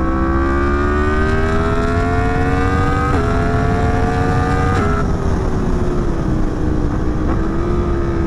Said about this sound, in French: On va rouler un peu cette MT10 comme il se doit.